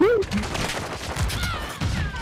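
Shotgun blasts in an online shooter video game, a few heavy booms under a voice talking over the game audio.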